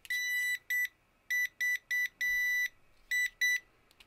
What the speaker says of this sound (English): it'll give us a beep